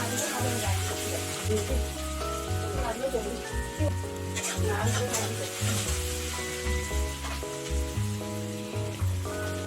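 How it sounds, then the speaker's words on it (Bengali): Whole cinnamon, cumin seeds and medium chopped onions frying in a pan until lightly reddened: a steady, soft sizzle running beneath louder rhythmic background music throughout. "সামান্য গোটা দারচিনি আর গোটা জিরে, আর আগের থেকে মাঝারি সাইজের পেঁয়াজ কেটে রেখেছিলাম সেটা দিয়ে হালকা লাল করে ভেজে নিচ্ছি।"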